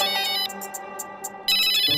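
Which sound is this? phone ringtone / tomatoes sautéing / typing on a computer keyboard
phone ringtone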